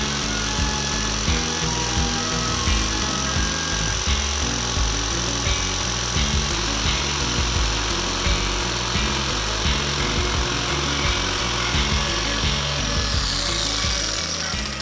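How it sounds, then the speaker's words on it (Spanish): A jigsaw cuts vinyl skirting panel in a steady, loud, close rasp, its rapid blade strokes chattering continuously from start to finish with no pauses and no talking. "Utilizaremos la sierra de calar, que nos va a dar un corte más preciso"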